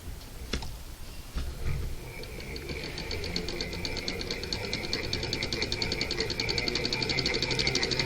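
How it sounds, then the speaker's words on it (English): A Jones Family CS model E sewing machine winds a bobbin after a couple of clicks, building into a fast, steady mechanical whir and rhythmic ticking that runs close and continuous to the end. "push here until you feel it click against the wheel, and then start winding your bobbin"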